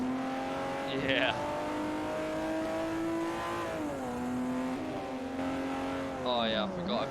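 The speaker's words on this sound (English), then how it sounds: "The 250 GTO sounds quite good in this game" A Ferrari 250 GTO engine in Forza Motorsport 4 drones steadily, then climbs and falls through gear changes with a sharp high whine, loud and close throughout, while a voice talks over it.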